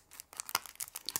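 Makeup packaging being torn open, a few quick close crinkly rips and crackles of wrapping in short bursts.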